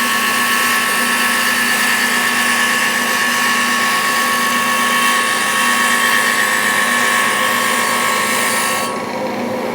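A Hammond table saw runs steadily while cutting wood, a loud continuous whine with a sustained motor hum that holds evenly throughout and drops away abruptly near the end as the cut finishes or the blade spins down.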